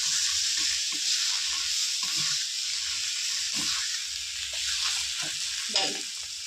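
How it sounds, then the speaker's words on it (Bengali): A spoon stirs khorkon fish bata with round slices of gondhoraj lemon in a hot pan, giving a steady sizzling hiss broken by soft scraping strokes, with no talking. "গন্ধরাজ লেবুটা গোল গোল করে কেটে বাটার সাথে কিছুক্ষণ একটু নেড়ে নেব"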